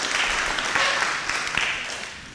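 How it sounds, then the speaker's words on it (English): An audience at a live debate event claps for the team asking the questions, a fairly loud, dense burst of applause that eases off slightly toward the end. "You can give them a clap."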